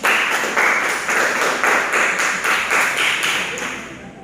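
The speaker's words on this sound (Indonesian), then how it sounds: "sekali lagi tepuk tangan untuk kita semua" Classroom students clap together in a steady, rhythmic round of applause during a micro-teaching lesson, the pulses loud and close and fading at the end.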